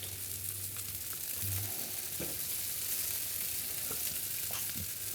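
Beef wellington appetizers sizzle steadily on a Blackstone griddle set to medium, a close, even frying hiss with a few soft scrapes and low hum underneath, no talking.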